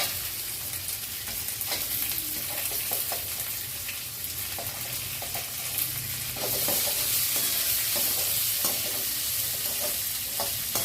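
Onions fry in a pan for a homemade vegetable chutney with tamarind, giving a steady close sizzle with scraping and stirring clatter and no talk.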